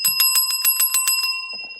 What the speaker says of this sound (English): Let me hit the bell on that.